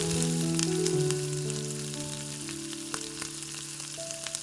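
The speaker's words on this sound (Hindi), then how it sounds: "आलूओं को अच्छे से भून लें।" Potatoes and taro fry with spices in a pan, giving a steady sizzle that fades slightly over the seconds, with sustained tonal background music playing throughout.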